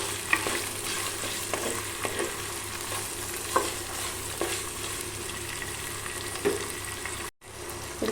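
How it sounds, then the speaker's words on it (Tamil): Onions, with curry leaves close by, sauté in a pan for chicken varuval, giving a steady close sizzle broken by scattered spoon-stirring clicks and scrapes, with a short gap near the end and no voices. "நல்லா வதக்கி விட்டுறலாம்."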